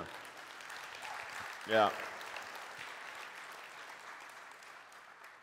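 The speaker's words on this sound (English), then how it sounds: "give the Lord a right, hand clap right now." A church congregation gives a sustained round of hand clapping for the Lord during a Sunday service, a steady dense wash of claps with a brief shouted voice cutting through near the start.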